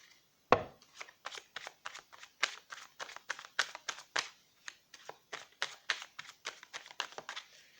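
A deck of oracle cards is shuffled and cut by hand, a brisk run of close, crisp riffling snaps and taps at a quick irregular rhythm, with no talking.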